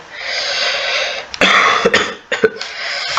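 A video game character gives a few harsh coughs and a throat-clearing rasp that cut through a steady hiss of background noise, close and fairly loud.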